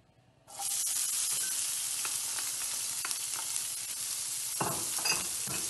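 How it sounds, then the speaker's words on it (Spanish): Chopped onion dropped into hot olive oil in a frying pan that previously held eggplant, bursting into a loud, steady sizzle that carries on with occasional stirring scrapes. "ponemos un poquito más de aceite de oliva y agregamos nuestra cebolla"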